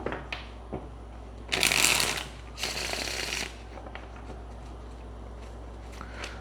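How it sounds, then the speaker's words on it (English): Two quick bursts of tarot cards being riffle-shuffled up close, each about a second long, with quieter handling sounds around them. "Let's get one shuffle."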